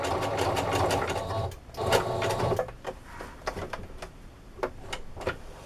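A sewing machine stitches a zigzag on microfiber sponge fabric, whirring in a fast, close, mechanical rattle for about two and a half seconds, then stopping and giving a few scattered ticks and clicks.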